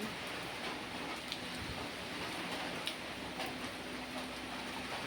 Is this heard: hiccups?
no